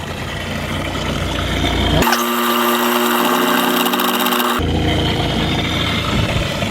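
Small portable RV water fill pump running dry and sucking air, a steady close mechanical whir and hum whose pitch and texture change abruptly partway through, then return to a rougher rattle.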